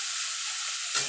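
Bitter gourd frying in a pan: a brief, soft, steady sizzle heard close up with no voices.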